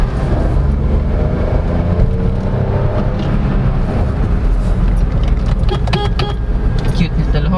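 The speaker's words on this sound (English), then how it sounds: "And then let's floor it." Suzuki S-Presso AGS small hatchback with automated gearbox under full throttle, a loud continuous engine drone and road rumble heard from inside the cabin, steady with slight shifts in pitch.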